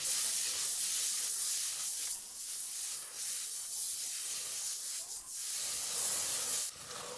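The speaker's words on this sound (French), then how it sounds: "Dans la même marmite, vous faites revenir 3 oignons hachés et 3 gousses d'ail" Chopped onions and garlic sauté in a pot, giving a steady close hiss that swells and fades with faint stirring scrapes, continuous throughout and with no voices.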